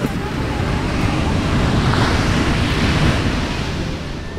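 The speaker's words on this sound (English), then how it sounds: "the waves just keep getting bigger and bigger" Ocean waves breaking steadily on a beach in Ecuador, a continuous loud wash of surf with wind rumble across the whole stretch and no voices.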